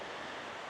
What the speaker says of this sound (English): Apologies for the rain, it's dumping here at home today.